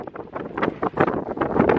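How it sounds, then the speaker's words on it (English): Gusty wind on a Lake District summit buffeting the microphone in irregular bursts, rumbling and close, with no voices. "Sorry if it's windy"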